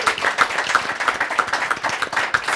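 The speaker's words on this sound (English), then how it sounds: "Let's just give a round of applause for like this dynamic group." A small audience at a climate finance panel claps briefly, a light patter of hands for a few seconds with no talking.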